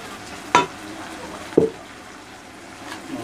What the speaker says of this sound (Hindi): इसको हम अच्छी तरीके से चला लेंगे हम